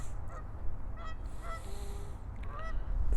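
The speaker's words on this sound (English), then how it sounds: "these geese just hang out here year round" Geese that stay year round honk in scattered calls at a moderate distance, outdoors near ice, over steady wind or background rumble.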